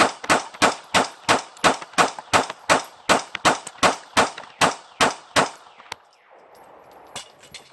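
A Taurus PT111 Millennium G2 pistol emptied in a rapid magazine dump of about fifteen sharp, evenly spaced shots fired close by in cold outdoor air, ending in a quiet pause with a couple of faint clicks.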